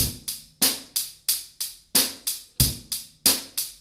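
A rock drum beat played alone and close: crisp cymbal strikes in steady eighth notes, with deep bass drum thumps landing on some beats.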